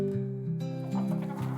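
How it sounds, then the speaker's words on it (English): A hen in a children's animal-sounds lesson gives a few short, loud, close clucks in quick succession. "The hen goes, cluck cluck."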